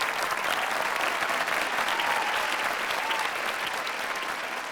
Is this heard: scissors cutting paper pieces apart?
no